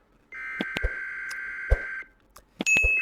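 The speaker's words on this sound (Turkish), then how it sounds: "Yine bir telefon sesi mi, sinyal sesi mi?" Electronic beeping signal in Call of Duty Modern Warfare 2 Remastered: a steady, loud tone lasting over a second, broken by short clicks and thuds, then a brief pause and a sharp, higher bright beep near the end.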